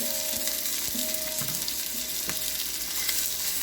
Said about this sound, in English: Once the oil is heated, I am going to add cumin in it.